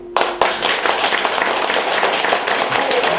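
A room of children claps together, a dense, lively patter of many small hands that runs steadily throughout after a couple of sharper opening claps.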